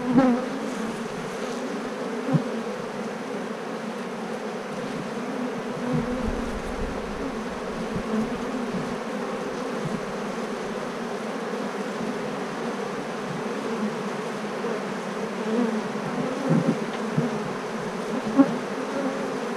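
Honey bees at a beehive give a steady, dense buzzing drone that holds evenly throughout, close and moderately loud, with no voices.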